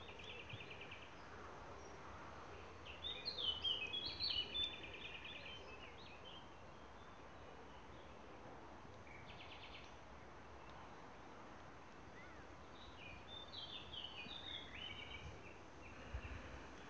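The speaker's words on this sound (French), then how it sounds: "Là, c'est les oiseaux que nous entendons, bien sûr." Birds sing in the distance across a quiet natural setting, with scattered chirps and short trills rising over a soft, constant insect hum, fuller in a couple of brief bursts.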